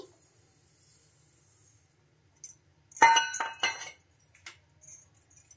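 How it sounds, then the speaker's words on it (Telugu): Dry upma semolina (rava) tipped into a mixer jar: a quiet stretch, then a cluster of short, close, gritty rattling bursts against the jar, fading to a few faint taps. "ఈ ఉప్మా రవ్వని ఒక జార్ అయితే తీసుకొని అందులోకి అయితే వేసుకోవాలి"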